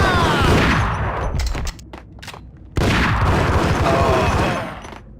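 Gunfire rattles in the action shooter Max Payne. Two loud, dense bursts of rapid shots are split by a brief lull, and the second volley trails off at the end.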